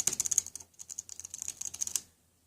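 Keys clatter on a Logitech solar-powered keyboard in quick, close bursts of typing, with a short pause midway before the clicking resumes and then stops, leaving quiet.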